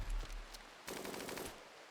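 Defensive turrets in RimWorld open fire, a short burst of rapid automatic shots rattling out after a quieter moment, faint and fairly distant.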